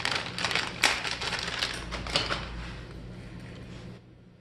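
IKEA furniture casters with 75 mm synthetic rubber wheels are pulled from their packaging, making close crinkling and rustling with sharp ticks and clicks. The handling noise fades out near the end.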